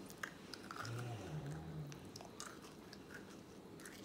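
Close, soft chewing and biting on a Disneyland churro marshmallow wand, a steady moist mashing sound lasting several seconds with no talk.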